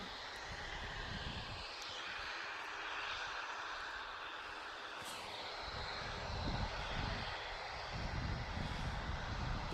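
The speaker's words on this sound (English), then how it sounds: "Next departures are ATR 76, going to Dublin" An ATR turboprop heads out on departure to Dublin from Manchester Airport, a continuous engine drone with a high hiss that swells louder in the final seconds.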